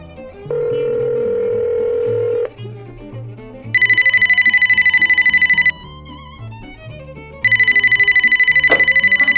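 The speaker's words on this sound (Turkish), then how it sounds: "telefon çalıyor" A telephone rings in bursts: one lower electronic ring, then two higher trilling rings with pauses between, loud and close.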